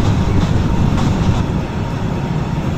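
A passenger train, the Kalka Mail, runs on rails at night in the Indian Train Simulator game, a loud, steady rumbling roll of wheels and carriages with faint rhythmic clatter and no voices over it.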